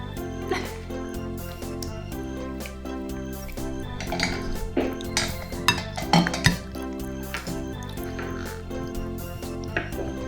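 Pasta salad with mayonnaise is stirred in a toy mini kitchen, making scattered light clinks and scraping taps of small utensils against plastic dishes over steady background music.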